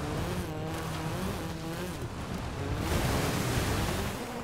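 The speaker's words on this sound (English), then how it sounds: "A lowered Mini? Water. Driving through the water." A lowered Mini splashes through water in Forza Horizon 5, a steady rushing wash of spray and engine roar that swells slightly toward the end, with no talking.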